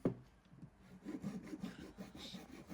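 A blade trims small wooden pieces with soft, close rasping strokes, a quiet rhythmic series of scrapes with no voices.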